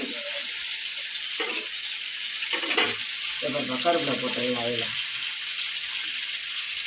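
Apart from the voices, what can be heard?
fish curry boiling and sizzling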